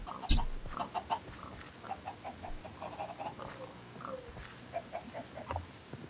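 Chickens cluck repeatedly in the video game Minecraft, in short, scattered bursts over a busy, steady background, with one louder squawk near the start.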